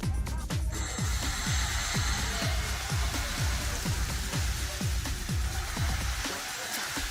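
Falling snow or rain sound effect in a video editor, a steady dense patter of rain with repeated soft low thumps throughout, continuous and fairly loud with no talk.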